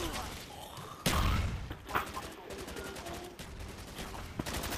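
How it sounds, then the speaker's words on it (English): Gunfire from a Call of Duty: Black Ops online multiplayer match rattles in quick bursts and single shots with a thumping impact, moderately loud, alongside faint talk. "Some guy keeps shooting."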